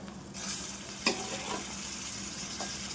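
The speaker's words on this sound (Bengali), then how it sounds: "আমি এখন সিদ্ধ করে রেখেছি, শাকটা দিয়ে দেবো।" Boiled spinach goes into a hot pan with shrimp and is stir-fried, producing a steady close sizzle broken by sharp scraping stirs.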